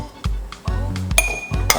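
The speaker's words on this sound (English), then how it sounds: "all I'm going to do is put them straight inside of the" Cut pieces of medium okra drop into a glass container, giving four distinct clinks and taps spaced about half a second apart, close and fairly loud with no talking.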